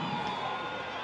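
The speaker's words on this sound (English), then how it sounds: "You can hear the crowd, you can see the fireworks." A dense, roaring stadium crowd at a women's T20 cricket match between South Africa and Pakistan cheers continuously at a distance, a steady wash of many voices with no clear breaks, with fireworks going off.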